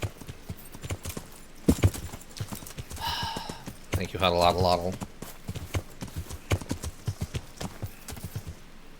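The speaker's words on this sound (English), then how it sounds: "That's the all-terrain horse we know you can be" A horse's hooves clip-clop in the medieval game Kingdom Come: Deliverance, a steady rhythmic trot running throughout with a person talking over it.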